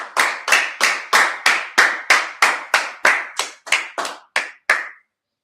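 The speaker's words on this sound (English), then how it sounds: "Clap it up." Crisp, evenly timed hand claps from a group at a religious gathering, about fourteen loud strokes in a steady beat that slows slightly near the end before silence.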